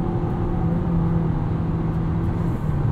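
A 2022 Mitsubishi Eclipse Cross SEL 4WD accelerates onto a highway, its engine droning steadily from inside the cabin, with the pitch rising gradually under constant road rumble.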